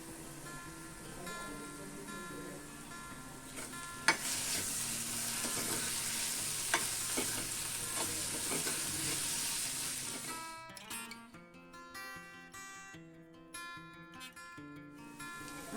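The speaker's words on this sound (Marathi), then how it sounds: "आणि कांदा छान कोमवून घेऊया" Onion sautéing in a pan with salt, turmeric and asafoetida for prawn masala, a steady bright sizzle with occasional spoon clicks, close up, easing off near the end as other sounds take over.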